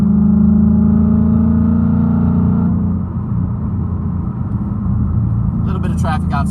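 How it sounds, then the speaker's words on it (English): A 2019 Ford Mustang Bullitt with factory exhaust and the resonator removed drones steadily at a low, rumbling pitch, loud and close, easing slightly midway before a faint higher sound appears near the end. "The only thing we have is the resonator is cut out, but other than that, this car sounds amazing."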